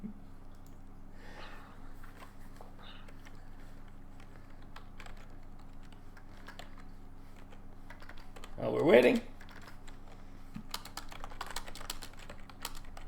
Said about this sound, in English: Is he typing?